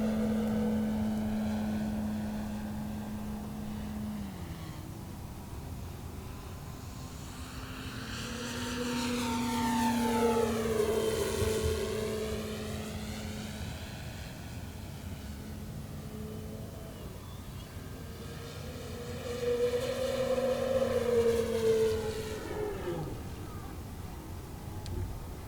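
An E-Flite Turbo Timber SWS 2.0m RC airplane on a 4-cell battery roars past at full power, its propeller whine rising and falling in pitch as it makes two loud passes, then fades between them.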